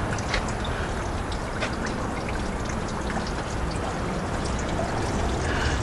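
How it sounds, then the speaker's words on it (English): Radiator fluid pours out of a disconnected hose on a tilted truck, a steady splashing gush that stays close and constant with no voices. "now we're radiator fluid is coming out"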